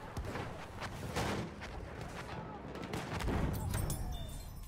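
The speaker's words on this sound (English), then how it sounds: "I was able to time my Mortar just right to blow up this tank on Empire's Edge" Game explosions and gunfire from a Battlefield 1 mortar strike destroying a tank on the Empire's Edge map, a dense, continuous roar of blasts and booms with no clear gaps, moderately loud throughout.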